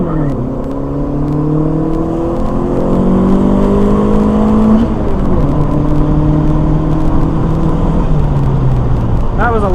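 A tuned turbocharged Honda D15 car engine revs hard and climbs in pitch repeatedly, loud and close, with rising and falling whine throughout, running a little rich and smoking, with cracked pistons.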